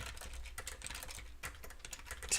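Quiet, rapid clatter of fingers typing on a computer keyboard during programming work, a continuous run of soft key clicks with no speech.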